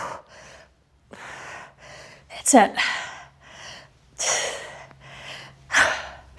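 Loud, panting breaths and gasps between exercises in a high-intensity interval training workout, bursts of huffing and puffing with a short spoken phrase mixed in.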